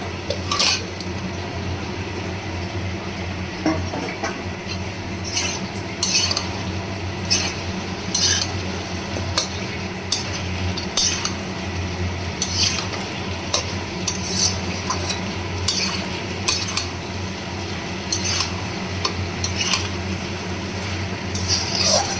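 Fried rohu fish pieces and potato being stirred into masala in a pan for a fish-head muri ghonto, with steady scraping and clinking of a spoon against cookware over a low sizzle, close and continuous.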